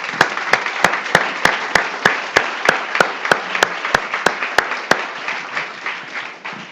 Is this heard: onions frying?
no